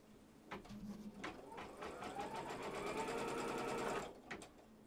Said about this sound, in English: Lay it down, put it back in, and we're going to stitch this down.